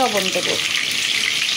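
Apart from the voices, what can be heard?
egg frying in hot oil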